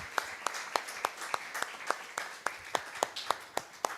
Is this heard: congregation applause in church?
yes